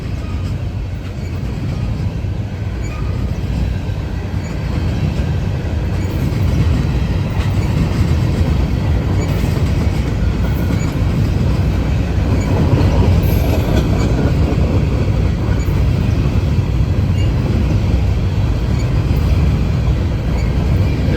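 A Norfolk Southern freight train with two locomotives rolls past near Gaffney, South Carolina, a loud, sustained low rumble of wagons with clickety-clack wheel rhythm and faint squeals, steady for the whole stretch.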